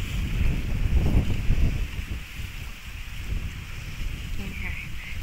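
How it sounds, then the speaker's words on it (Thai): Strong wind under overcast, stormy skies roars steadily against the microphone, a low, blustery rumble that is loudest at the start and stays throughout. "เป็นแบบอากาศแบบครึ้มฟ้าครึ้มฝนแต่ลมแรงมาก"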